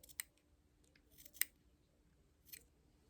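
Scissors trim velvet fabric for a wig cap, giving three crisp, isolated snips spaced about a second apart, close and quiet in an otherwise still room.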